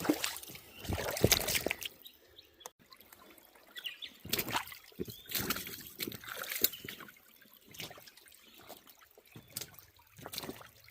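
Water sloshes and trickles in uneven surges as a gold pan is swirled in a creek near Melbourne, with bursts of splashing broken by quieter pauses, close by and with no talk.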